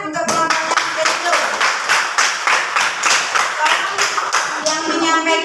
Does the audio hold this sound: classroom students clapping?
yes